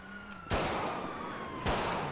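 Gunfire in the video game GTA V with the LSPDFR police mod: two loud, close bursts of shots about a second apart, each with a long, noisy tail, as a siren-like tone sounds faintly underneath.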